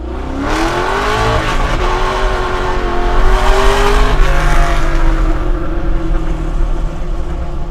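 A Hellcat-powered Chevy C10 pickup driven hard, its supercharged V8 roaring loud and steady with rising and falling revs through gear changes, the engine note close and continuous throughout.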